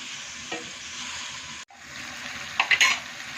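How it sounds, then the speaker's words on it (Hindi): Chicken karahi fries over high flame, a close, steady sizzle broken by a few sharp stirring scrapes and clinks of a utensil against the pan near the end. "तेज़ आंच पे ना अच्छी तरह से हम इनको भून लेंगे"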